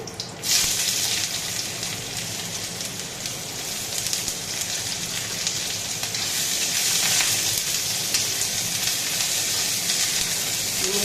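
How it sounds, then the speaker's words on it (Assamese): Chopped onions hit hot cooking oil and set off a sudden, loud sizzle that settles into a steady, close, crackling fry. "এতিয়া মই ইয়াতে কাটি থোৱা পিঁয়াজ দি দিম।"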